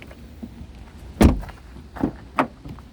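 Rear doors of a 2012 Ford Focus hatchback with a 1.6 petrol engine, heard as a loud thud near the middle followed by two lighter clunks, close by with no talk.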